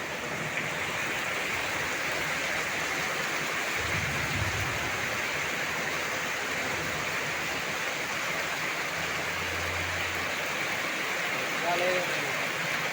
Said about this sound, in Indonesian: hujannya lebat sekali